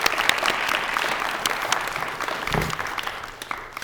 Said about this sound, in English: Now give me a round of applause.